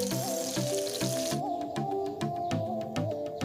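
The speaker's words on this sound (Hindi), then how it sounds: "ये लूँगी मैं ऑनियन और इनको हल्का सा फ्राई करना है हमें।" Garlic and chopped onion sizzle gently in hot oil in a pan, a steady soft crackle running under clinks and stirring sounds, with a tonal musical hum in the background.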